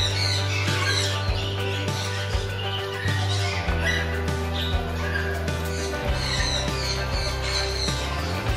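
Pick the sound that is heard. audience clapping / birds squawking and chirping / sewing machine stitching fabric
birds squawking and chirping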